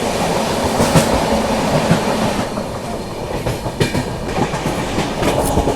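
The Amravati–Mumbai CSMT Superfast Express rolls past in a steady, loud rush of rail noise, with wheels clattering rhythmically over the joints and a brief squeal, close by and continuous with no voices.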